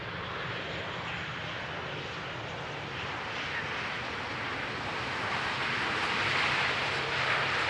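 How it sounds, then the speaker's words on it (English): A plane lands on runway 18R at Amsterdam Schiphol Airport with a bumpy nose gear touchdown, heard as a steady, broad roar of jet engine and rushing air that swells slightly toward the end, with no talk. "Little bit of a bumpy landing of the nose gear"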